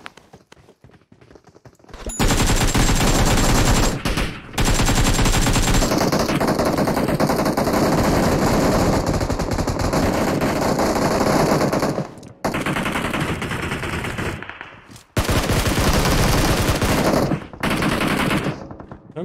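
Automatic gunfire in PUBG Mobile: loud sustained bursts of rapid shots with brief gaps between volleys, close and dominant, starting after a short quiet moment, with a player's voice speaking.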